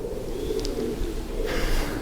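Pigeons coo close by inside the loft of an old wooden grain bin house, a soft, steady murmur of low throaty calls with a brief higher chirp partway through.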